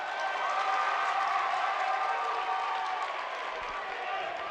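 A basketball crowd at a boys' high school game, Capital at Shelton, roars steadily with cheering and applause, a continuous bright wash of noise with faint voices underneath.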